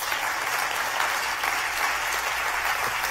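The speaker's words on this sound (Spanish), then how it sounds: "dale ese aplauso a Dios" Church congregation applauding during a sermon, a steady, even wall of clapping at moderate loudness that holds without a break.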